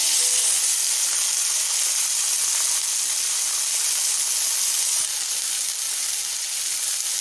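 Tandoori fish cooking in a pan over low heat gives off a steady, soft sizzle and hiss that holds evenly for the whole stretch, with no talk over it.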